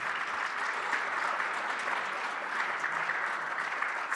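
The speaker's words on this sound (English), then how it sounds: "Everyone, a round of applause." Steady applause from an event audience at a diversity council gathering, an even, continuous wash of clapping heard at a moderate distance, holding level throughout without voices on top.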